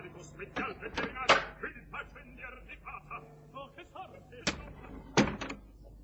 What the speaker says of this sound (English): open the box door, darling